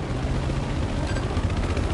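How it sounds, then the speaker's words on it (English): A video-game helicopter drones with a continuous low rotor thrum, steady and fairly loud, heard alone for a brief moment. "Someone just flew away with my helicopter."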